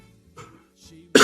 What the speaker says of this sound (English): I'm still kind of coughing, but I just cleared my throat with the last stuff here